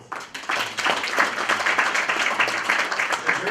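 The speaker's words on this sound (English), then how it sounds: "this is the time that we give everybody and yourself a big round of applause" Audience applause at a human settlements symposium, a dense burst of clapping from a seated crowd that rises quickly and holds steady, fairly close and loud.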